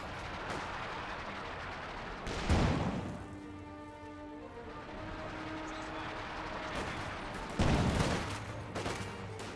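Gunfire in a Company of Heroes 2 battle, with scattered distant shots and a couple of sharp, louder bangs over a low rumble of combat.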